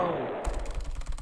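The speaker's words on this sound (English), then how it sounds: "Radical explosion." A video game explosion effect in Deltarune bursts in suddenly as a rapid rattling series of crackling blasts, loud and dense, right after a short stretch of game music.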